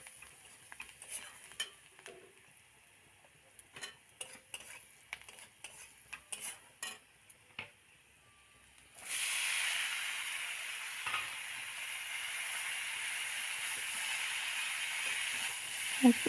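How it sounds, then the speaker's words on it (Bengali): Onion fries in oil in a wok for a vegetable curry. At first there are sparse stirring clicks and scrapes, then a loud, steady sizzle takes over partway through and keeps going to the end. "এই যে পেঁয়াজ ভেজে কড়াই নুন আর হলুদ লঙ্কা এগুলো দিয়ে সবজিটা তুলে দেব"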